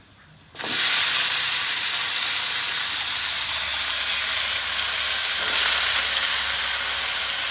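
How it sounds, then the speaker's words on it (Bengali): Vegetables hit a pan of fried lentils with a sudden loud burst of sizzling that settles into a steady, close hiss of frying, with no talking. "আমার ডাল ভাজা ভাজা হয়ে গেছে, এখন আমি সবজি দিয়ে দেব।"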